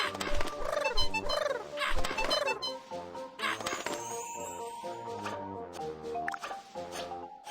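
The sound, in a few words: cartoon birds squawking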